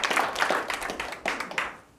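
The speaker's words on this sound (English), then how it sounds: "Round of applause for all the veterans serving overseas and in this country." An audience at a keynote in a Ritz Carlton ballroom in Orlando claps for veterans in loose, uneven bursts that thin out within two seconds, with no speech on top.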